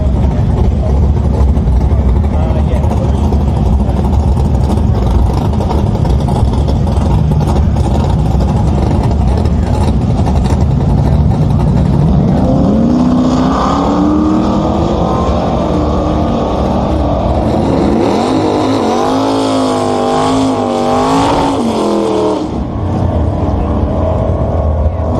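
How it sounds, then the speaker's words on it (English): Drag cars do burnouts at Willowbank Raceway during a Mopar event, a loud continuous engine roar with rising and falling revving sweeps and tire screech, the roar dense enough to bury any voice. "Sometimes it's impossible to speak over these burnouts too."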